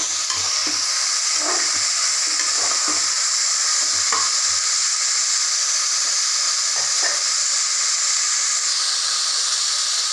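Broccoli, peas, onion and tomato saute in a pan with a steady, loud sizzle, broken by occasional soft stirring scrapes and clicks throughout.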